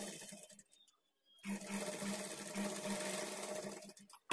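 A sewing machine double-stitches a blouse seam up to the shoulder, starting after a brief near-silence and then running in a steady, even mechanical chatter for about three seconds.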